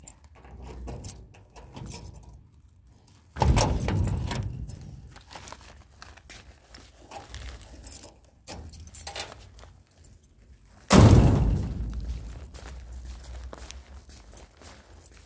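Keys jangle and clink at a home gate being unlocked, in two loud bursts of close metallic rattling with softer handling and footstep sounds between them.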